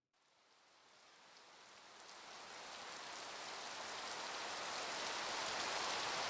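Quiet, steady rain hisses softly, a continuous drizzle that gradually swells a little louder, with no other sounds.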